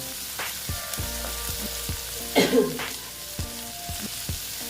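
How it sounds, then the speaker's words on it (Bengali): Dried lote fish (shutki) fries with turmeric in a pan, giving a steady close sizzle broken by a few soft stirring knocks and one brief louder flare of spitting oil near the middle. "অল্প হলুদ দিয়ে দিচ্ছি দিয়ে এইবার আমি আস্তে আস্তে করে মাছটা ভালো মতন ভিজে নেব"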